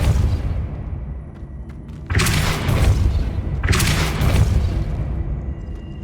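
Two heavy booming blasts from the Depulso spell in Hogwarts Legacy strike about a second and a half apart, each a loud, deep explosive thud with a crackling tail over low ambient rumble.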